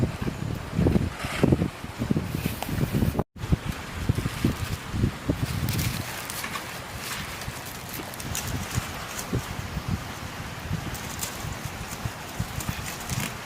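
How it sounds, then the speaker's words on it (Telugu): Gusty outdoor wind on a rainy day in a village buffets the microphone in uneven low rumbling bursts over a constant rushing hiss. "ఎందుకు ఇట్లా పెడుతున్నా అంటే గాలి వస్తుంది."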